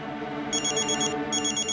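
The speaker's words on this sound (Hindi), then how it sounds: "फोन बजा आपका।" A phone rings in two short bursts of warbling electronic tones over a low background hum.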